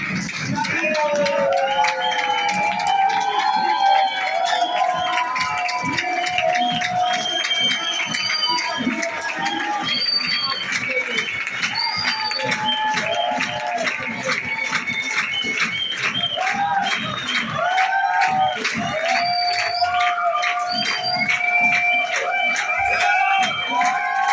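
A stage-sharing event audience claps loudly and continuously, with cheers and occasional whistles mixed in, as a dense crowd roar under voices that carry through.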